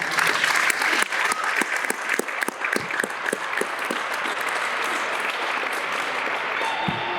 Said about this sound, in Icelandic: Og það skulum við nú gefa gott klapp.